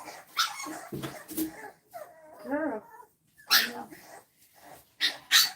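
French Bulldog puppies yip, whimper and bark in short high bursts close by, interspersed with someone speaking softly to them.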